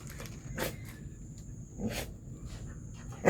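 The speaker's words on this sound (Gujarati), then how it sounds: "આ જો રમાડે છે કૂતરાને" A farm dog being played with in a muddy field gives a few brief yelps and whimpering sounds in short bursts against quiet outdoor background.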